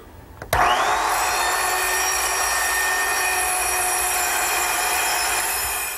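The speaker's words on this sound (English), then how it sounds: "So what I like to do is use a small circular saw, cutting the piece a little bit longer than what I need." A small circular saw snaps on abruptly and runs at a steady, loud whine while cross-cutting pieces of wood, holding an even tone for several seconds before easing off.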